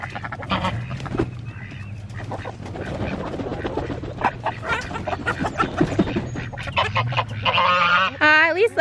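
A goose honks among ducks and chickens as poultry leave the coop, with loud, repeated honks and quacks at close range and someone talking over parts of the flock noise.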